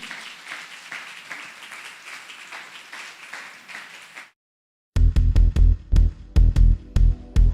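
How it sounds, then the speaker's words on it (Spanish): A church congregation applauds steadily for several seconds, a dense wash of clapping that stops abruptly before loud, pounding rhythmic music begins. "Un aplauso al Señor."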